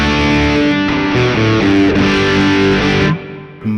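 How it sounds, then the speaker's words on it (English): Electric guitar played through a Mooer preamp set to the Marshall-style UK Gold distortion, a thick, loud, sustained overdriven riff of chords and notes that cuts off near the end. "I'm using the UK Gold distortion preamp, which again, I'm presuming UK Gold must be a Marshall style preamp."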